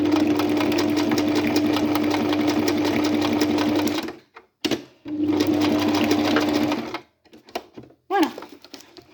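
A sewing machine stitches a fabric storage booklet in two close bursts of rapid needle chatter, each stopping abruptly, followed by quieter handling clicks and a short fabric rustle.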